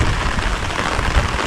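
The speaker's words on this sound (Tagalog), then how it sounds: "magbibiyahe tayong umuulan" Heavy rain pours steadily during a road journey, a loud dense hiss of drops with low rumbling underneath and no voices.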